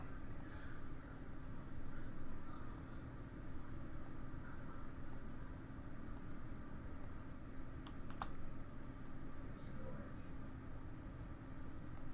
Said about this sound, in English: we're going to the keyboard and hitting shift, and we're hitting each letter